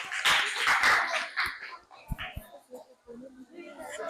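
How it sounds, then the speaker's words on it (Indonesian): Students in a classroom give a short burst of applause, close and lively, that fades into scattered claps and voices as children and a teacher talk. "Kasih aplaus ya"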